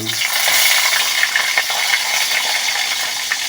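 Steady hissing sizzle of eggplant frying in hot oil, close by, with occasional faint crackles and light clinks.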